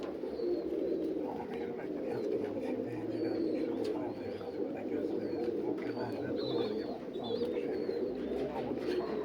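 Pigeons coo repeatedly at close range over a low, steady background murmur, their soft calls rising and falling throughout.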